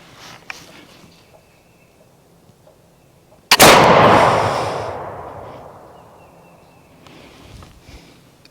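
A flintlock gun fires wooden bullets with a single sharp, loud blast that decays slowly over several seconds after a quiet lead-in, with faint outdoor ambience.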